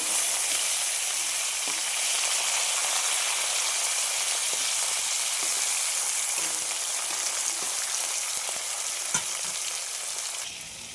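Steady, loud crackling sizzle of fish frying in hot oil, with occasional pops and spatters, continuing without a break and easing off at the end.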